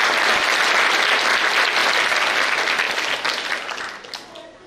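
A crowd at a lecture and exhibition of Shivaji-era artifacts bursts into loud, dense applause that gradually thins and fades out over several seconds.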